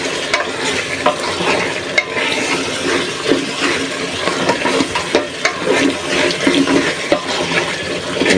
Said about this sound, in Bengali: এখন পানি দিয়ে দিব ঝোলের জন্য।